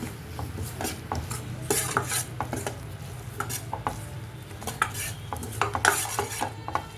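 Spoon stirring masala powders, including chilli and turmeric, into kadalai sambar in a pan, with repeated close scraping and clinking strokes against the metal over a low steady cooking rumble and no talking.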